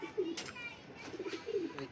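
Racing pigeons from a 42-kilometre tournament give low, throaty coos in a few separate bursts close by, with light background noise and no clear speech.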